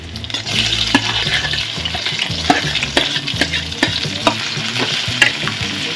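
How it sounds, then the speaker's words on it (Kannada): Onion and tomato frying in a pan, a loud close sizzle broken by repeated clinks and scrapes of a spatula stirring at an uneven pace, with no voices. "ಈರುಳ್ಳಿ ಫ್ರೈ ಆದಮೇಲೆ ಸ್ವಲ್ಪ ಟೊಮೊಟೊ ಹಾಕೋಣ"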